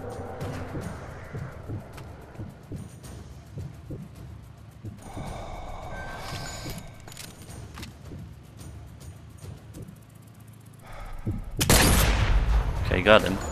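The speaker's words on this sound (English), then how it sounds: "I don't even see him and he shoots me." Gunshots in the VR shooter Sniper Elite VR, scattered sharp reports under ongoing game noise and a nearby voice, ending in a loud close burst of fire.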